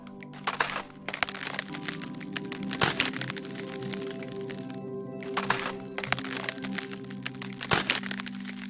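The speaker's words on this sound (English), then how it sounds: "I also used some old recordings of mine of ice cracking." Ice cracks in a field recording, with sharp, irregular snaps and crackles, some loud and close, scattered over a low steady hum.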